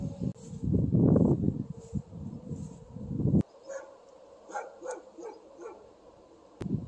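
A dog barks outdoors during a storm, with a burst of close, loud barks and yips followed by softer, scattered whimpering barks over a background rumble.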